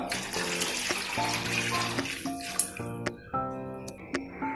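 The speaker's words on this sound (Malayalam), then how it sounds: "ഇനി ഇതിലോട്ട് ബാക്കിയുടെ വെള്ളം ഒഴിച്ചു കൊടുക്കാം." Water runs steadily from a tap into a cooking pot for chicken kabsa, the tone rising as it fills, with a few short bursts and pauses near the end.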